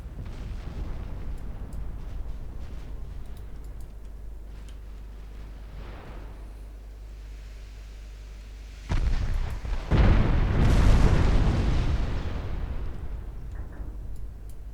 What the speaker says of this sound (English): Put their 8-inch guns to use.